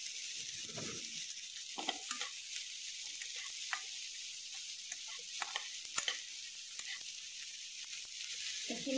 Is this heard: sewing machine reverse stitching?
no